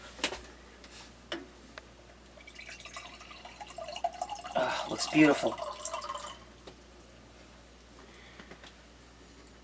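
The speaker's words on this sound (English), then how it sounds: "I'm going to get some water out of our Berkey now." Water running from the tap of a Berkey emergency water filter into a container, a soft trickling stream rising in the middle and then stopping, with scattered ticks and clinks around it and a person speaking briefly.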